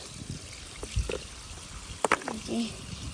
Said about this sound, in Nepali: यो चाहिँ खोलाको पानी है साथीहरू।